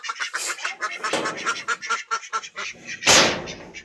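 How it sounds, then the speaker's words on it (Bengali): Farm ducks quack loudly and repeatedly in rapid overlapping calls, ending with one louder, harsher honk near the close. "হাঁসগুলো এখন বাইরে যাবে খাওয়া দাওয়া শেষ করে"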